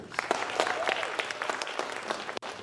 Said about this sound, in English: Please give a round of applause again for Max.